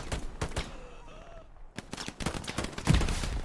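Gunfire in the Hell Let Loose video game during an 18-versus-18 tournament match, with repeated close shots and rattling bursts over a rumbling battlefield backdrop, fairly loud throughout.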